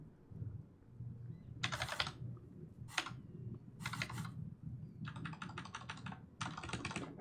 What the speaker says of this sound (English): You can hear her quickly typing in the background.